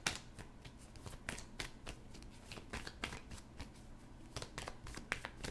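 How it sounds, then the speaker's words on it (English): A Romance Angel Oracle card deck being shuffled by hand, with a steady run of crisp, close riffling snaps and flutters and no talking. "I'm going to wrap up this message by drawing one more card from the Romance Angel Oracle deck"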